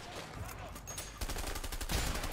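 Dense crackling gunfire in the video game A Way Out, a steady rattle of shots with rapid rhythmic bursts intensifying midway, mixed with faint game ambience.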